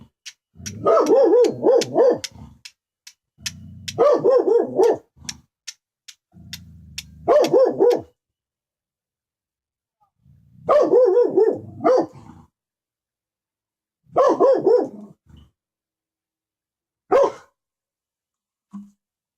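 Dog barking outdoors in repeated bursts of several barks each, separated by pauses, fairly close and loud, with no voices.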